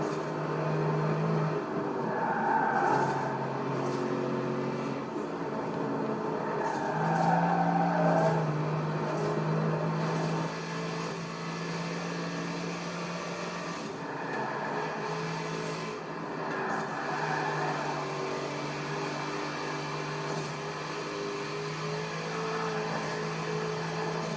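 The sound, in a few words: Corvette car engine in Forza Horizon 4 video game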